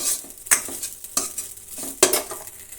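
Grated coconut fries in ghee for ghee modak and kadubu, with a few distinct spatula scrapes against the pan over a soft, low sizzle, heard up close.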